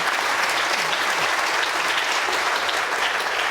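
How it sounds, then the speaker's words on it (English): Loud, close applause from a lecture-theatre audience fills the whole moment, many hands clapping in a continuous, even roar. "Big round of applause for Xavi."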